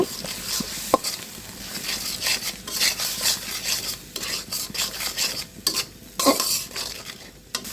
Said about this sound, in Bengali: সব মশলা একসাথে দিয়েছি এখন আমি এটা কষিয়ে নেব